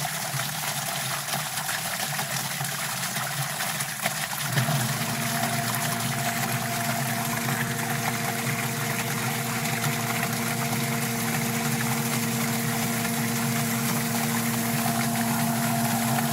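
A sump pump drains washing machine water with a continuous mechanical hum and watery rush, steady and close, with a tonal drone that settles in after a small shift a few seconds in.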